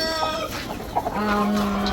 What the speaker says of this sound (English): here we have golden partridge Brahma